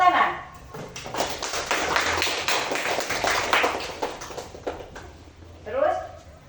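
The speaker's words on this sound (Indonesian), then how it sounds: "kita tepuk tangan" Classroom students clap in a long burst of dense applause after a teacher's talk, with speech heard before and after the clapping.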